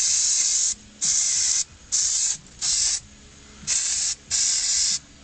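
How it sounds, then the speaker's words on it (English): Six short, loud blasts of aerosol brake cleaner hissing onto the rear drum brakes of a 2007 Chevy Colorado, sprayed in quick, fairly even bursts with brief gaps between them. "Never hurts to clean everything real good with a can of brake cleaner before you start tearing it apart."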